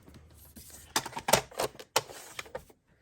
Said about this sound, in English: I am gonna trim this just a little bit too